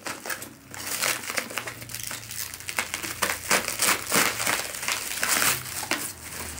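Plastic packaging on a vegan gourmet product crinkles and crackles continuously as hands work to open it, loud and close with dense, irregular rustling throughout.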